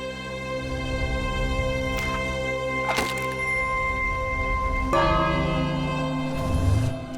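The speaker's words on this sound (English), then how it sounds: "so let's try the bell out" Bell struck in the video game King's Quest (2015), sharp metallic strikes near the 3 and 5 second marks that ring out with sustained tonal overtones over game sounds, with no talking.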